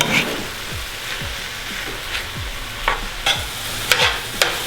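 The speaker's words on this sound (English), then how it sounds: "all I'm doing is using the spoon to move the tofu around" A spoon pushes tofu scramble around a pan over raised heat, giving repeated scraping strokes over a low steady sizzle, close and moderately loud, with no talking.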